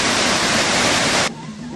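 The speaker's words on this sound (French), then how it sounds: "Croisement de deux rivières" Two rivers meet in a steady, loud rush of flowing water, a dense broadband roar that drops abruptly to a softer wash in the final moment.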